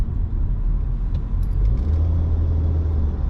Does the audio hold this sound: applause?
no